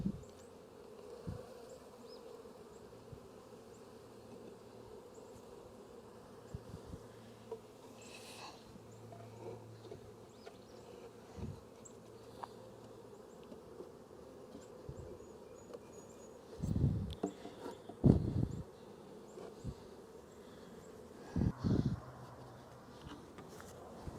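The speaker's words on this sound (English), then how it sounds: "So our bees in the split are orienting themselves and starting to fly" Honeybees from a freshly made hive split, the first of the year in mid-February, fly out to orient themselves, a steady low buzzing hum with louder passes of individual bees close by.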